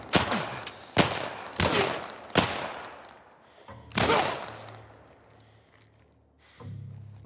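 Gunfire in the video game The Last of Us Part I: five loud, sharp shots spaced roughly a second apart, each ringing out with a reverberant tail, then a quieter stretch with faint thumps.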